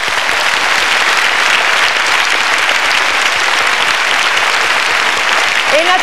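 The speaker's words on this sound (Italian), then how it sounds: "Un grande applauso oltre che al nostro sindaco, all'orchestra del Teatro Bellini." Large theatre audience applauding an orchestra at a Christmas concert in Catania's Teatro Massimo Bellini, a dense steady wash of clapping that stays loud and even throughout.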